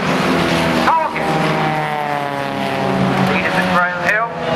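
Race cars scream past at Brands Hatch, loud and continuous, with engine notes sweeping as they pass close by. A commentator talks over the racing.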